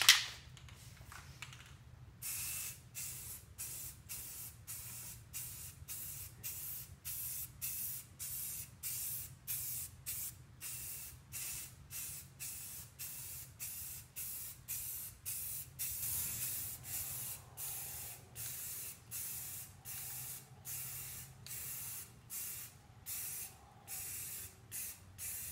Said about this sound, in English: I'm going to go ahead and use some Rust-Oleum primer. This is the one with filler, just to do a light coating.